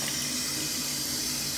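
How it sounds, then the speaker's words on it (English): Tap water runs steadily from a faucet while hands are rinsed, a continuous close hiss of flowing water with no talk over it. "and then you've got to rinse it off properly"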